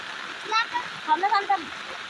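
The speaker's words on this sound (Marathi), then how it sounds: "जाम प्रेशर आहे पाण्याला. जाम भरलं पाणी." Steady rushing floodwater under strong pressure roars throughout during heavy rain, with a voice-like murmur rising briefly over the churning flow.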